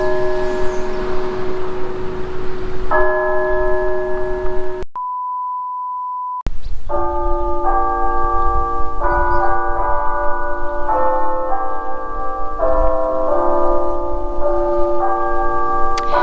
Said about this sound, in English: someone's ringing the bell, or if it's automatic